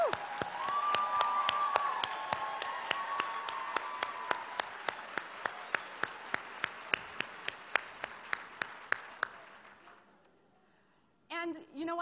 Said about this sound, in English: could you please stand so we can applaud you?